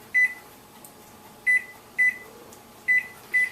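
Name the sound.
microwave oven running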